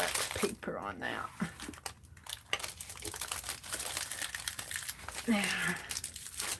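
Wax paper is crumpled and crinkled near the microphone during mixed-media art journaling, giving several rustling, crackling bursts while a person talks over it.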